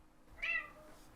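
A single short cat meow, faint and fairly close in a quiet room, rising and falling in pitch within about a quarter second.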